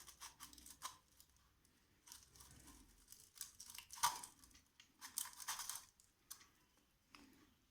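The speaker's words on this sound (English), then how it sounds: "For now, let's cut the wire and remove it." A wire inside a rusty popcorn maker being cut with a tool, heard as sparse close snips, clicks and scraping handling noises in a quiet room, with one sharper snap near the middle.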